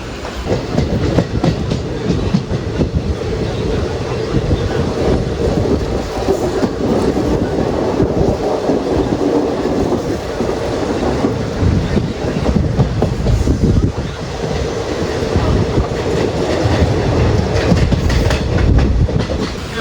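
Sleeper-class coach of the Rajya Rani Express running from Nilambur to Kochuveli in Kerala: loud, continuous rumble and rhythmic clickety-clack of wheels on rails heard from inside the carriage.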